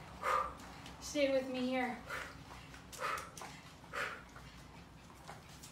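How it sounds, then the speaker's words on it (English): A pet dog gives a long whimpering whine and several soft barks nearby during a home arm workout, while a person talks over it. "Might hear my dog, see my dog."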